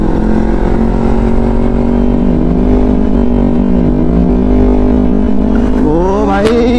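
Yamaha R15 motorcycle on an open road, its engine droning loud and sustained through a wheelie, then rising sharply in pitch as it revs near the end.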